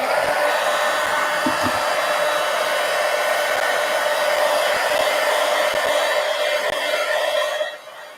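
A hair dryer blows steadily over a painting, a close and loud whooshing drone that holds for about seven and a half seconds before cutting off abruptly near the end, with no talk.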